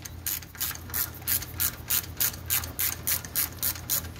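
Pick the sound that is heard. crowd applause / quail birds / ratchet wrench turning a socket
ratchet wrench turning a socket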